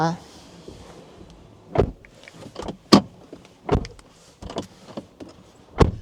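Doors of a Toyota Corolla Cross HEV Premium being opened and shut, a series of sharp, close thumps and latch clunks spaced every second or so, with someone talking quietly in the background.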